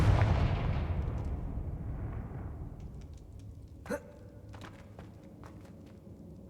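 A Confringo fire spell blast in Hogwarts Legacy opens with a heavy, booming explosion that rolls off into a fading rumble, followed by one sharp crack and a few softer clicks and thumps.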